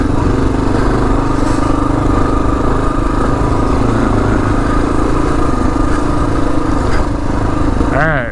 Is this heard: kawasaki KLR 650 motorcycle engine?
yes